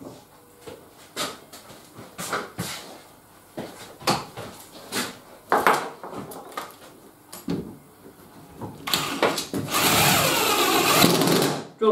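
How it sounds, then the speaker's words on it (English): A power drill whirs in short repeated bursts with pauses between, ending in a longer sustained run, close by with some handling knocks, drilling into pine wood. "Drill them straight into the wood."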